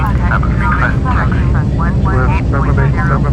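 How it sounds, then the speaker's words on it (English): ATR 42-500 turboprop engine 2 spooling up during start in the Prepar3D v5 flight simulator, a steady loud drone with rising tonal whine, overlapped by people talking throughout. "Engine 2 start. Introduce the fuel."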